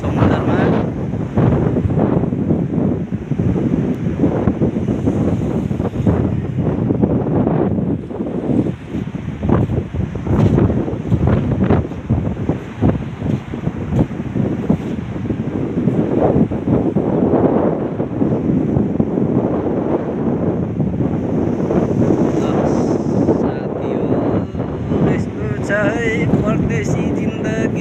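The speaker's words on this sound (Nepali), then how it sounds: "पानी छाल हानिरहेछ समुद्रमा" Sea waves crash under strong wind, a loud, continuous roar with heavy gusts buffeting the microphone and faint indistinct voices mixed in.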